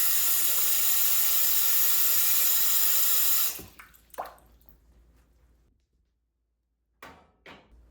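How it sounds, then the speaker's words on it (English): Water pours steadily from a tap into a pot of potatoes for a few seconds, then stops, followed by a few faint splashes and drips at close range. "And I will go ahead and add the water and salt to it."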